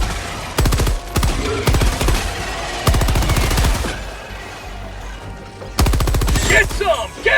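Stalwart machine gun from Helldivers 2 fires in loud sustained automatic bursts, several rapid strings of shots separated by short gaps, with a voice talking between bursts.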